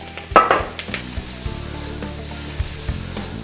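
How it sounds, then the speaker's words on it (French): Carrots, onions, shallots and garlic sautéing in a pan as the base for veal Marengo: a soft, steady sizzle, broken by a few sharp scrapes and knocks of stirring. "J'ai mis l'ail et je vais faire revenir tout ça"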